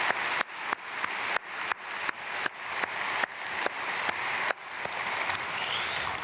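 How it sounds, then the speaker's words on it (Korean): A church congregation applauds during a Korean early-morning prayer service, with sharp rhythmic claps in a regular pulse over a continuous wash of clapping. The sound stays fairly loud throughout. "박수로 축복하겠습니다"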